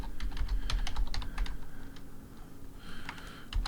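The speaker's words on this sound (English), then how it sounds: "I bet if I just type that in." Quick clicks of a computer keyboard as a search is typed, close-up over a low room hum, with a short pause mid-way before a few more keystrokes.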